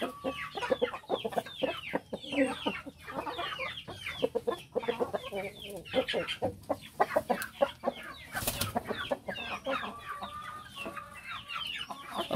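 A young imported rooster crossed with a local Bangkok hen clucks in rapid, close bursts with a few crow-like calls. Other farm sounds and faint background noise are mixed in.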